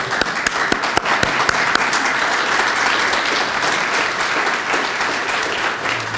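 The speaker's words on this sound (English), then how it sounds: "Let's give them one more round of applause." A roomful of people at a business breakfast gives a sustained round of applause after a toast to award winners. The dense clapping is loud and steady for several seconds, with a few sharper individual claps standing out.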